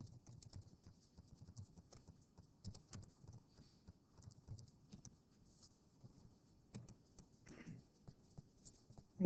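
Students in a classroom tap the keys of graphing calculators, making faint irregular clicks in scattered bursts with short pauses between them. The room is otherwise quiet.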